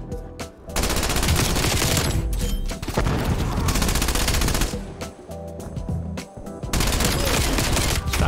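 A gun sprays rapid automatic fire in a video game, long sustained bursts broken by brief pauses, loud and close, with no talking over it.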